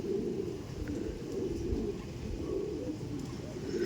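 A male Andhra pigeon and others coo in a continuous low, throaty murmur, close and fairly even in loudness, with no talking.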